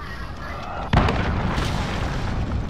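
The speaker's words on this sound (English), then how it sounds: "Enemy cruise missile." A cruise missile detonates in Call of Duty Modern Warfare, a sudden heavy blast that rolls into a long rumbling roar over steady gameplay noise.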